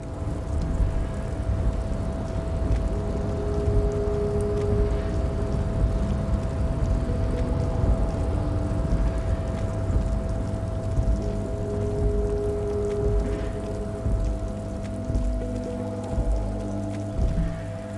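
Steady rain falls in the Disco Elysium game world, a continuous soft patter with a constant low hum beneath it, evenly loud throughout with no voices.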